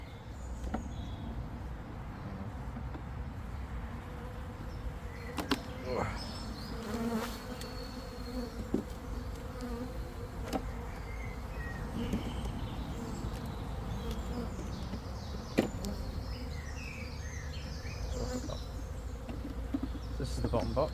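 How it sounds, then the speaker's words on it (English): A steady, dense hum of a honeybee swarm buzzing close by around stored hive boxes, with individual insects droning past now and then. "all the bees are collecting there"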